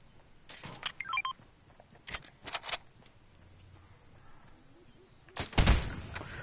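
Bombs go off in the Fortnite video game as a few sharp, separate blasts spread across several seconds, the loudest and heaviest coming near the end, with quiet stretches between them.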